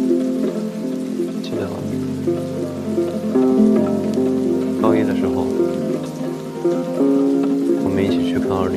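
Rain falls steadily on two people caught outside in a Chinese youth drama scene, a soft hiss running beneath a sustained music score while a voice speaks.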